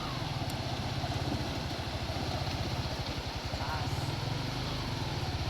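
A motorcycle engine chugs steadily through floodwater at a swollen river crossing, a continuous low throbbing running close and even throughout, with faint voices in the background.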